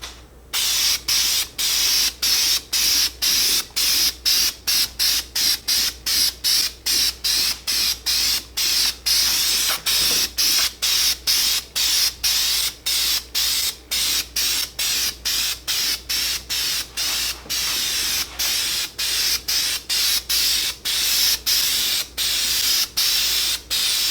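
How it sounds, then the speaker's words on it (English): Krylon truck bed coating sprayed from an aerosol can onto a car wheel for a third coat: a long run of short, evenly repeated hissing bursts with brief gaps between them, close and steady, with no voices. "I'm going to get this 3rd coat on and then I'll be done"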